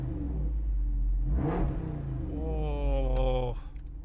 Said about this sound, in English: It is the power or the performance exhaust. So you press that and it just gets so good.